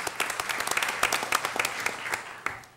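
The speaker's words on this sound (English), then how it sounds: "let's have another round of applause" Audience applause fills a school board meeting in Hampton, a steady patter of many hands clapping at close range that holds for a few seconds and then begins to taper off.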